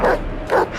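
Wild dogs barking while attacking a man in the desert: two loud, close barks about half a second apart, sharp and yelping, with no talk over them.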